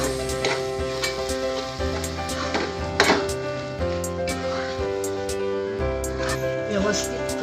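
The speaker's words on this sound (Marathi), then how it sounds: "मंद गॅसवर हे करी येईपर्यंत परतून घेऊ." Pav bhaji spice mixture with garam masala sautéing on low gas, a soft, steady sizzle running under background music throughout.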